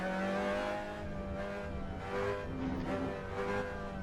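Mazda MX-5 engine pulling steadily in a VR racing game on the Nürburgring Nordschleife, harmonic drone rising and shifting pitch, moderately loud and continuous with no talk.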